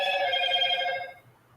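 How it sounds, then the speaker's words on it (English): A phone chimes an alert tone, a bright ringing burst lasting about a second before fading into quiet room noise; no one speaks. "I'm hearing a sound on my phone,"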